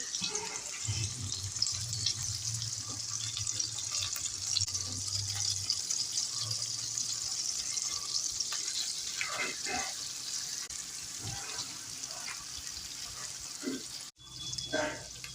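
Flounder fillets sizzle in hot oil in a pan, a steady broad crackle and hiss running close and fairly quiet throughout, with occasional clinks and soft handling sounds.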